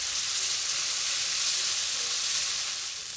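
Satay sauce sizzling and bubbling in a pan as dried shrimp liquid is stirred in, a steady close broadband fry-hiss that stays even throughout with no voices.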